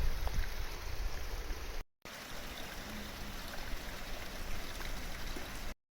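A small stream of water flows and trickles steadily in the open, close and fairly loud, with a brief gap in the middle and no voices.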